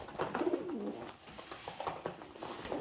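Pigeons coo softly and repeatedly at close range, with low rolling calls over a steady background hum and no talking.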